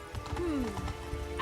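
Roach, Geralt's horse in the Witcher 3 video game, trots up with a quick clip-clop of hooves and lets out a short rising-and-falling whinny, close and clear over faint game ambience.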